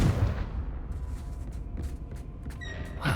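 A Confringo fire spell blasts off in Hogwarts Legacy, a rumbling burst at the start and another sharp whoosh near the end, with a low roiling murmur between them.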